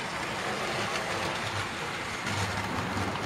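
A model railway locomotive labours up an incline carrying extra weight, its small motor whirring steadily with brief surges as the wheels spin and slip on the track.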